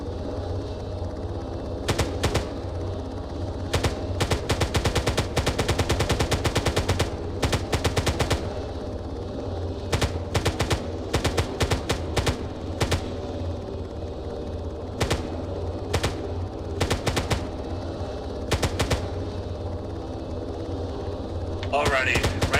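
Gunfire echoes across a military field training exercise range, with rapid bursts of automatic fire and single sharp shots repeating throughout over a steady background rumble.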